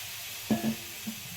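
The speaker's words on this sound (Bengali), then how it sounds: "তাওয়াটা ভালোভাবে গরম হয়ে গেছে এবার আমি সামান্য জল এখানে ছিটিয়ে নিচ্ছি" Water sprinkled onto a hot tawa for mung dal dosa gives a short sharp hiss followed by a smaller second spit, brief and close against a quiet background.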